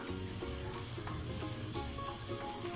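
Onions and minced meat sizzle and fry steadily in a pan, a dense continuous crackle with occasional stirring scrapes, close and loud with no talking.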